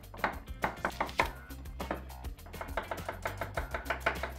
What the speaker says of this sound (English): Now, we cut tofu.